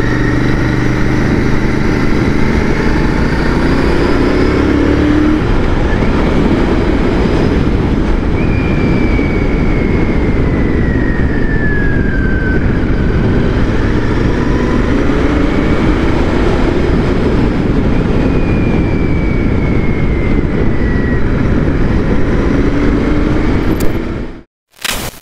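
A Royal Enfield Continental GT 650 motorcycle engine drones loud and steady throughout a ride, with wind rush and rising and falling revs as it shifts, then cuts off abruptly near the end.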